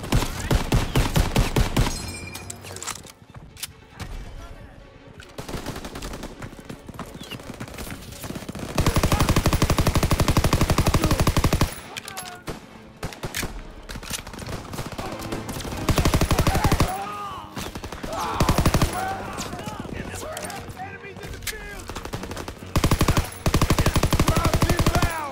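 Machine gun fire rattles in a Call of Duty WW2 battle, long loud bursts alternating with shorter volleys and scattered shots, close and intense, with brief shouted voices between.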